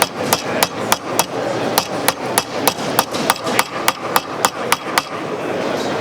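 A nylon cross-peen hammer strikes a metal bracelet sunk into a concave stake, about fifteen sharp, close, evenly spaced blows in a steady rhythm with no talking.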